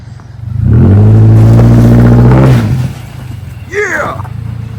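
A Subaru car with all-wheel drive, freshly brought back to life, revs loudly up close and pulls away, its engine note rising then dropping as it recedes, followed by a brief shout and lingering rumble.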